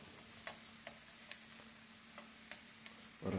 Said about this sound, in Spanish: aquí estamos cocinando algo, miren, chorizo